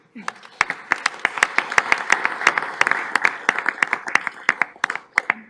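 Audience at a city council meeting giving a round of applause, a moderate crowd of sharp separate claps with a few louder near hands, steady and then thinning toward the end.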